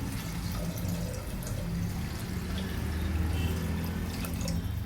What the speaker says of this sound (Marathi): पाणी टाकून घेते.